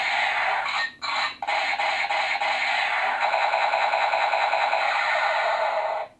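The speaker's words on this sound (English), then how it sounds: "every time you pull the trigger and you have the batteries in this blaster," Battery-powered iHarPro Grenade Pistol toy blaster firing on a trigger pull, a loud buzzing electronic rattle that cuts out twice in the first moments and then runs continuously to the end.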